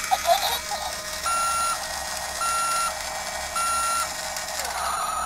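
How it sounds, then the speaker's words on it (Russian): A toy radio-controlled roller tractor for small children gives three evenly spaced electronic reversing beeps, steady and fairly close, over a faint motor hum, with no talking. "Когда назад едешь, пикает, чтобы было слышно."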